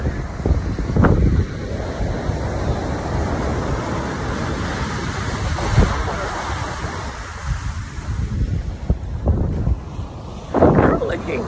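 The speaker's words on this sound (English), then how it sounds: "These waves are rough as fuck. They're beautiful though." Rough ocean surf breaks at Half Moon Bay beach, a broad continuous wash with gusting wind noise on the microphone and occasional voices.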